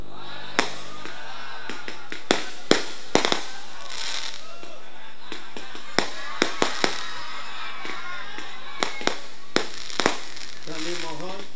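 Firecrackers go off in sharp, scattered bangs and crackles, some loud and close and others farther off, at a religious gathering in Jakarta. A crowd murmurs beneath them and a voice speaks over a loudspeaker.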